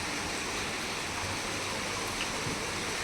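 Steady monsoon rain pours down outdoors around trees, a dense continuous hiss of drops that stays even and fairly soft throughout, with no voices.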